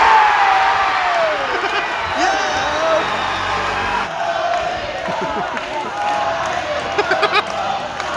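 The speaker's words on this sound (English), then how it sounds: "Immediate cheering." A football crowd cheers in a loud, continuous roar, with scattered whoops and shouts rising above it the whole time.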